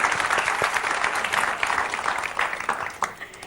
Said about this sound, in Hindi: अभी एक बार जोरदार तालियां